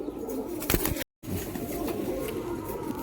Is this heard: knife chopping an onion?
no